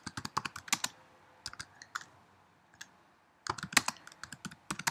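Rapid clicking keystrokes on a computer keyboard during a live stream chat, typed in quick bursts with a short pause in the middle, close and fairly quiet, with no talk.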